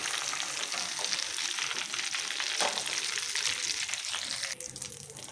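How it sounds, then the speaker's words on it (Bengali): Jackfruit chips frying in hot oil give a dense, continuous close sizzle and bubbling, with occasional stirring and turning scrapes and a brief clatter near the end. "ওরকম করে উল্টে পাল্টে ভেজে নেব"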